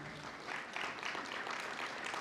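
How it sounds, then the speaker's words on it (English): A conference audience gives a short burst of applause, a steady, dense wash of many hands clapping at moderate distance, with no voices over it. "I'll applaud that one."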